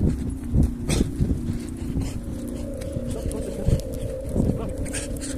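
A dog whimpers and pants in an abandoned neighborhood outdoors, under steady background noise with faint scuffing, as people talk nearby.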